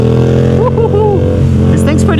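A motorcycle accelerates on a road, its engine droning loud and steady and rising in pitch, with a voice speaking over it.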